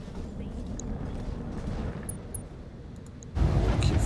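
Mech weapons fire in the Battletech video game: a steady, dense rumble of blasts and impacts builds into a louder, heavier volley near the end, with no talking.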